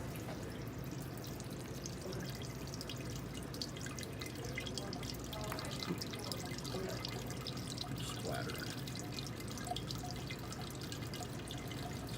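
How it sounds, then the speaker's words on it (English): Water seeping slowly through a bed of cold brew coffee grounds, a soft, continuous trickle with faint scattered drips, quiet and close. "let it really seep down through all of those grounds"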